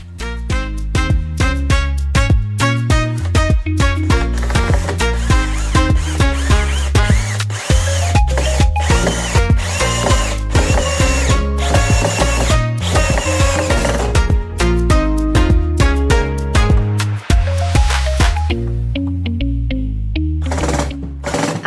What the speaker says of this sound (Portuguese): Fiz o pré-furo e fui parafusar.